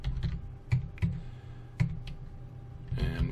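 Keys tapped on a computer keyboard while entering a nickname during iVMS software setup, a handful of close, irregular clacks with short pauses, ending in a quick burst of faster strokes.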